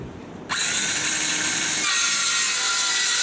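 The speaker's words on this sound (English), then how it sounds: "So we'll do a countersink so that the screw is actually below the wood." A power drill spins up abruptly and bores a countersink hole into wood, a loud steady high-pitched whine holding for nearly three seconds, dropping slightly in pitch partway through as the bit bites.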